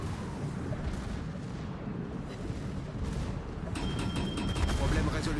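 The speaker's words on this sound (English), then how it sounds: "There's your torpedoes you were so worried about." Torpedoes and naval guns fire in a warship video game during a finals match, with dense rumbling booms and blasts building toward the end, mixed under a talking voice.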